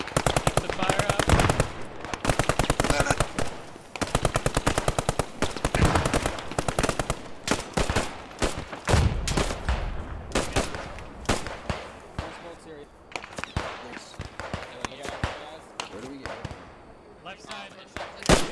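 In the WWII shooter Post Scriptum, machine gun fire rattles in long, loud rapid bursts that fade into scattered shots and thuds, while players call out and talk over the shooting.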